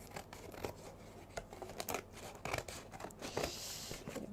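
Scissors snip repeatedly through a mixed media tile, a close series of crisp irregular cuts with some tearing texture, with no talking.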